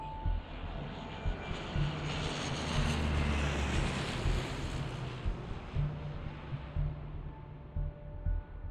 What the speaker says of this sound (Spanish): Una escuadrilla de 4 aviones Gloster despegó.